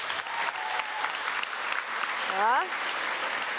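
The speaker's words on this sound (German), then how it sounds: "Können bitte als erstes mal alle klatschen" An audience applauds in a hall at a live book show, steady moderate clapping throughout, with a brief spoken word from the stage over it.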